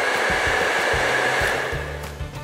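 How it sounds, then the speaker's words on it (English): A hair dryer runs steadily, powered from a Kia V2L adapter, giving a loud, close, continuous whooshing hum for the whole stretch with no one talking. "then we turn on the hairdryer to see if it works"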